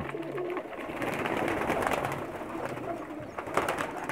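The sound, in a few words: male racing pigeons cooing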